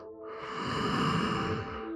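One long, soft exhale during a yoga child's pose, a slow breath out that swells and fades over about two seconds, close and quiet with no talking.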